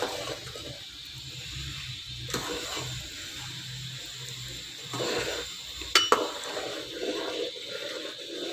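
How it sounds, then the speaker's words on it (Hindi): A spoon works through thick beef nihari gravy in a pot, with steady scraping and soft stirring noise, a couple of sharper clinks against the pot near the end, and a low background hum throughout. "थोड़ी देर चम्मच चलाते रहना ताकि इसकी गुठलियाँ ना बने।"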